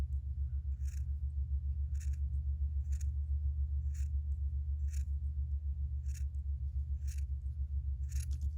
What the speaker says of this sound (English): You don't wanna snip all the way through, you just wanna snip right to the glue.